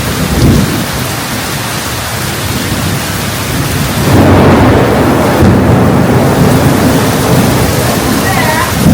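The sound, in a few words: thunder and heavy rain at night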